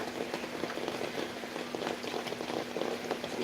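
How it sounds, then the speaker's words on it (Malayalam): Dense, steady rainfall patters on a surface, with scattered drop impacts and a faint constant hum underneath. "ഭയങ്കര മഴ ഇവിടെ"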